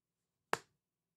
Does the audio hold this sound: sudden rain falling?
no